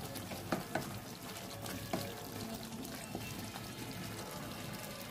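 Chicken sautéed in spice paste in oil, a faint continuous sizzle with occasional soft scrapes and knocks of the spoon as the pieces are turned.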